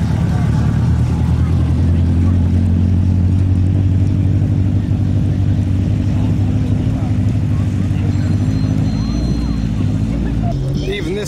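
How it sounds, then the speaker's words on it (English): A car labours up a muddy hill at an event where supercars get stuck, its engine droning steadily and loudly throughout, with people talking over it. "A lot of cars are struggling up this hill as well."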